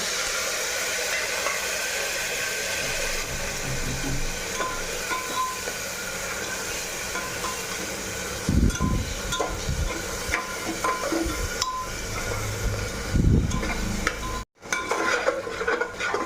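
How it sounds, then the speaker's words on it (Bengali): Spice paste, loosened with a little water, fries in oil in a pan for a small-chickpea breakfast dish. A steady, close sizzle runs throughout, with louder scraping stir strokes near the end. "দেখো মশলাটা লাল লাল হয়ে ভাজা ভাজা হয়ে এসছে"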